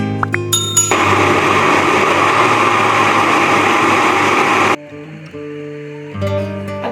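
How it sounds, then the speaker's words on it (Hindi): Electric grinder blending a cooled tamarind and apricot mixture for chutney, a loud steady whirring roar of about four seconds after a few clinks, then stopping abruptly to a quieter hum and clatter. "इसको अब हम ग्राइंड करेंगे।"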